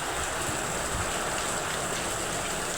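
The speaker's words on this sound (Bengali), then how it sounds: "দেখেন কত সুন্দর বৃষ্টি হইতেছে" Steady rain pouring down outdoors, a dense, even hiss with drops pattering on nearby surfaces, continuous and fairly loud throughout.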